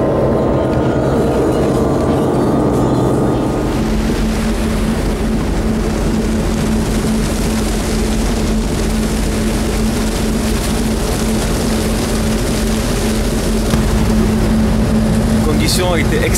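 A ship's engines drone steadily and loudly below deck on a multi-day sea crossing, a constant mechanical rumble with a sustained low hum that holds throughout.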